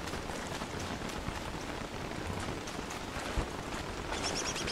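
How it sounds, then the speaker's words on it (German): Steady rain falls in Don't Starve Together, a constant hissing patter of drops spread evenly across the scene, with a small thump partway through. "Der Regen macht mich fertig."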